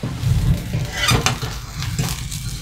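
Brandy flaring up in a steak pan, a soft whoosh and crackling sizzle with metallic pan scrapes and stirring, steady and close, no talking.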